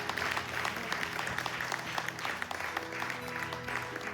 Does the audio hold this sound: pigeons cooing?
no